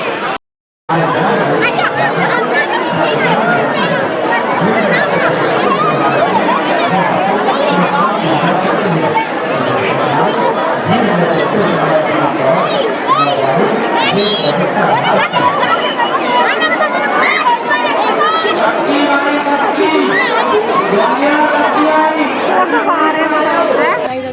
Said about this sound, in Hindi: गंगा जी पे देखो कितनी भीड़ है